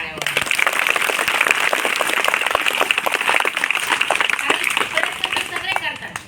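Loud, dense applause fills the room for teachers at a Zilla Parishad school event in Dhangarwadi, Ahilyanagar, steady clapping from many hands lasting throughout before tapering at the end.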